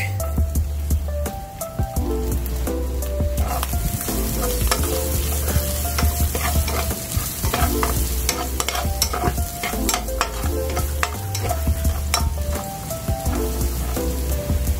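Garlic frying in oil left over from fried chicken in a pan: a loud, steady sizzle with constant crackling spatter and occasional stirring scrapes runs throughout, close up.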